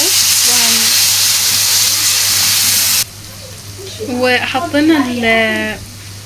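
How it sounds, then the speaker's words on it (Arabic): Chopped onions sizzle and hiss steadily in a hot pan with a spoonful of vinegar added, a loud frying sound up close that drops in level midway as someone talks over it. "حطينا البتاع الخل علشان تتشوح مع البصله"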